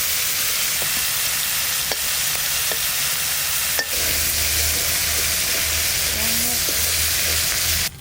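Shrimp fry in mustard oil in a pan, giving a loud, steady, close sizzle and crackle that runs unbroken for the whole stretch.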